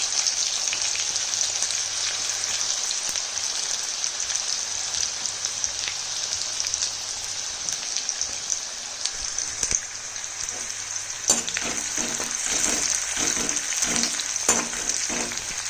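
Chopped onion pieces fry in hot oil with a dense, steady sizzle, like rain on a surface, and a spoon stirs and scrapes the pan in quick rhythmic strokes near the end.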